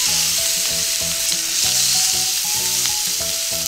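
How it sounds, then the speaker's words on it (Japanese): Beef steak sears loudly in a hot pan over strong medium heat, a dense continuous sizzle with scattered crackles and pops throughout, no voices. "熱い方から焼いていきますね。"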